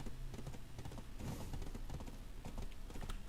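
Soft, rapid hoof clip-clops from a horse in the video game Black Desert Online patter quietly at an even trot, with faint background ambience and no voices.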